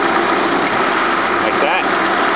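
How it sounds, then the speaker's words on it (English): A car engine running steadily at a mid-range drone with a compressor, continuous and close without clear breaks, with a speaking voice faintly under it. "if you rev it too fast, the compressor cuts out."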